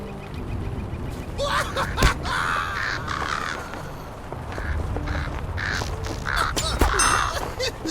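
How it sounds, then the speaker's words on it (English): Crows cawing in the fantasy online game Lord of the Rings Online, a flurry of harsh repeated caws overlapping at close range above a rumbling game background. "It sounds like crows."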